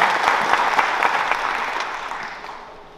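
Applause from an audience at a regional Social Worker's Day gathering in Olsztyn, a dense, steady wash of many hands clapping, loud at first and gradually fading out over three seconds.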